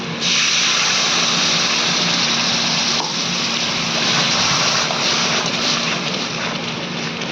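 Water used to rinse a ground sweet paste is poured into fried masala paste in a pan for a peas and paneer curry. A loud, continuous hiss and bubbling steam sound carries on close and even, with no talk.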